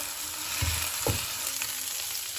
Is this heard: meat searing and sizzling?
yes